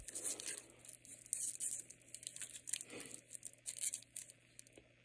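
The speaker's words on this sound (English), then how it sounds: "Make a lot of rustling sounds because it's new in its wrapper." Close, soft crinkling of a new plastic wrapper around a Seiko 5 Sports watch, with irregular rustles and small crackles continuing throughout, no voices.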